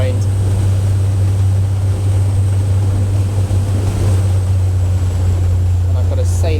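A Sunseeker Predator 75 motor yacht at fast cruise around 27 knots: a loud, steady low engine drone mixed with rushing water and wind noise, constant and close, with a brief sharper splash near the end.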